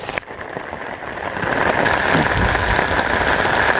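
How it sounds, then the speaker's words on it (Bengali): Heavy monsoon rain pours down on a village, a loud, dense, continuous hiss of drops on surfaces that swells and thickens after the first couple of seconds. "খুব জোরে বৃষ্টি নামছে"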